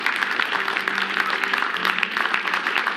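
Applause sound effect: a dense, steady clatter of many hands clapping, loud and continuous for the whole three seconds with no voices over it.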